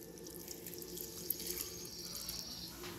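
A liter of water poured into a pot while making homemade soap, a continuous splashing, trickling stream close by, steady and unbroken with no speech.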